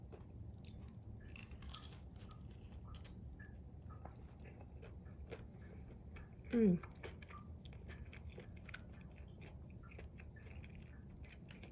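Someone chews crunchy Chickenjoy fried chicken, faint close crunches and mouth sounds over a low room hum, with a brief muffled vocal noise midway.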